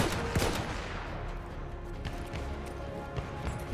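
Gunfire in the video game Battlefield 1, a loud sharp shot near the start followed by a continuous rumble of distant battle fire and action noise.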